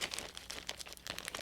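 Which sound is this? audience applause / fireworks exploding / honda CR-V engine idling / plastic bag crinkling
plastic bag crinkling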